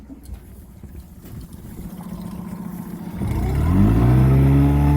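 A Pro V 1800 boat engine on a 2017 hardtop goes from a rough, rumbling idle into a loud climbing rev, its tone rising steadily and holding high toward the end; no talking.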